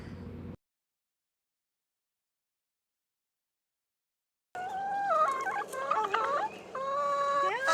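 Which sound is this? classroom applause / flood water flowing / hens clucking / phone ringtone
hens clucking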